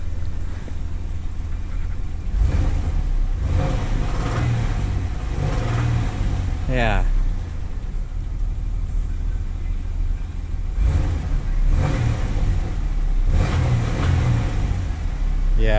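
A 4th-gen Camaro with a 3.8L V6 and a front oil leak idles and is revved up, with its engine note climbing twice over a low idle rumble. A light ticking rides with the engine, and a voice briefly speaks.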